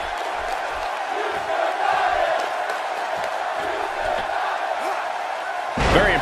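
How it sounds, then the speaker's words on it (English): A wrestler crashes down with a senton in a WWE 2K match, the body-slam impact set against a steady arena crowd roar with a louder burst of cheering near the end. "Very impressive senton."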